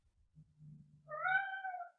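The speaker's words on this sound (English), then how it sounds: "Cute cat." A house cat gives a single drawn-out meow, preceded by a soft low murmur, heard close and alone in a quiet indoor room.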